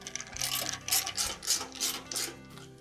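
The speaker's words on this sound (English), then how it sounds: "we'll reinstall the other 2 screws on the front of the bulkhead" A hand ratchet tightens screws on the front bulkhead of a Whirlpool clothes dryer during a repair. About six quick, close clicking bursts come in an even rhythm, each a short stroke of the ratchet.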